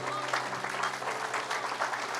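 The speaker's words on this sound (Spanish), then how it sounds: "Dale un aplauso al Señor" A church congregation bursts into steady, dense applause during a Spanish-language sermon, a continuous wash of many hands clapping at even loudness, with some murmured voices underneath.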